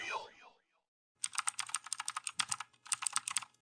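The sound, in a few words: computer keyboard typing sound effect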